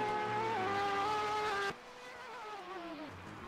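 A sim-racing endurance car at Watkins Glen spins out: a loud, steady engine tone holds for under two seconds, then cuts abruptly to a quieter, falling whine and tire noise.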